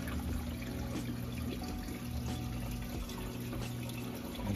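Water from a reef tank's return pump refills the sump, a steady continuous rush and trickle of flowing salt water at moderate level with a low hum underneath, no voices.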